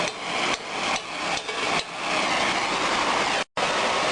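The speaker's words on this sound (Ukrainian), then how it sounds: "Значить, потрібно поправити молотком." A hammer strikes a welded steel pipe to straighten it: about five sharp, loud metallic blows at a steady pace, followed by continuous harsh workshop noise, with no talking.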